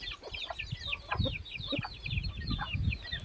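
Chickens being fed rice on a farm, a flock clucking and chirping busily all at once, with scattered pecking and shuffling close by, and no human voices.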